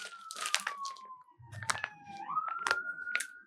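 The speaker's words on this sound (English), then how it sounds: "The sirens are me, not you, in case you're wondering." A wailing electronic siren sweeps slowly up and down in pitch, faint and steady, mixed with crinkling and crunching handling noises close by.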